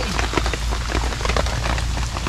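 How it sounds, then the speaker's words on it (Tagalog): Heavy rain pours down in a dense, constant hiss with scattered pattering drops on nearby surfaces, loud and unbroken throughout. "Grabe na ulan, oh."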